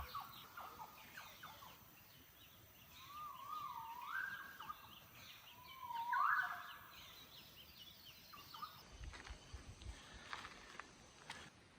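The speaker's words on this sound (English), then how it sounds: "The dawn chorus is just starting." Early-morning bird calls fill Iron Range National Park on Cape York Peninsula, Australia, with a couple of loud, rising squawks standing out over softer, distant chirping across the forest.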